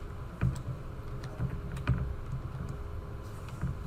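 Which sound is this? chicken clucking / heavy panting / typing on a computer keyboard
typing on a computer keyboard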